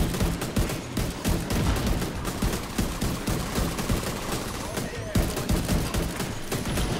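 Constant heavy gunfire from Tom Clancy's The Division 2, loud overlapping shots and automatic bursts that barely pause for seven seconds, with a brief dip near the end before the firing resumes.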